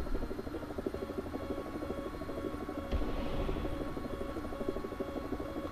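A Mi-28 attack helicopter in War Thunder drones with a continuous pulsing rotor chop and engine whine at a steady level, with a brief sharp impact partway through and no speech.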